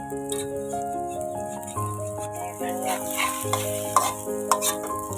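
Steady scraping and sizzling of egg and garlic being stir-fried in a hot pan, egg sticking to the pan, with a sustained musical tone running underneath and a few sharper clatters.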